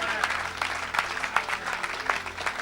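A church congregation claps for Jesus in a short burst of applause, sharp rhythmic claps moderately loud in a reverberant hall.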